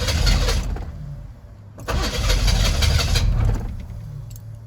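Truck engine cranking and catching, loud and close, with a rough running rumble that dips once and then picks up again, no talking.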